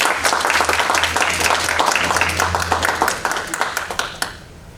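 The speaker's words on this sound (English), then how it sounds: "Please give the mayor and then members of the council and" Loud applause from the crowd at a District 2 press conference for the mayor, council members and CRA chair, dense at first, then thinning to a few scattered claps and fading out.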